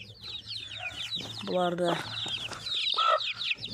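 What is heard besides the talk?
chicks and hen clucking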